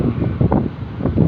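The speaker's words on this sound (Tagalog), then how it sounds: "Mahangin kasi dito, eh." Wind gusts buffet the microphone outdoors in a breezy spot, producing a loud, uneven, rumbling rush that swells and eases over a short stretch, with no speech.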